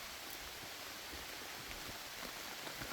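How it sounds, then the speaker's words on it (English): Light sun-shower rain falls steadily in a garden with pumpkins and Sweet William, a soft, even hiss of drops with faint scattered patters, close and quiet, no voices. "You don't want the rain, child?"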